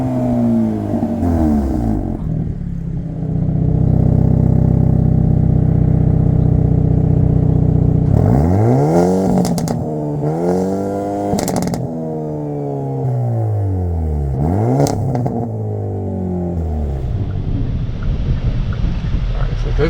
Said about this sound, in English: The dual mode exhaust also is a lot of fun and make a lot of great noises.